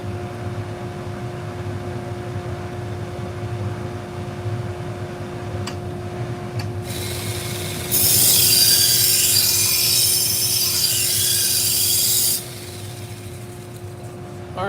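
A knife being sharpened on a Tormek sharpening machine, a bright hissing grind lasting about four seconds over the machine's steady motor hum, close and fairly loud.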